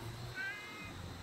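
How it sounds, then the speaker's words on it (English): A 16-year-old Siamese cat in a workshop gives one short, faint meow over a steady background hiss and hum. "That's our Siamese."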